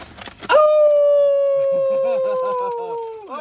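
A man imitates a wolf howling at the full moon, one long, loud, sustained howl that slowly falls in pitch and drops off at the end, with faint background sounds beneath it.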